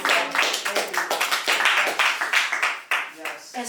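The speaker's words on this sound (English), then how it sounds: "Everybody give it, let's clap." A small group claps in a radio studio during an interview, a quick burst of close, crisp handclaps that runs steadily for a few seconds and then tapers off.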